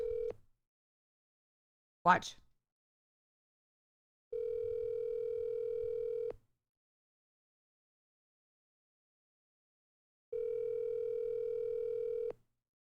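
Telephone ringback tone on an outgoing call, a steady electronic tone sounding in two long bursts of about two seconds each with silence between, clear and alone, after a brief rustle near the start.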